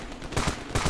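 Rapid gunfire from the Patriot gun in the video game Ravenfield, two quick loud bursts of shots fired close up in under a second.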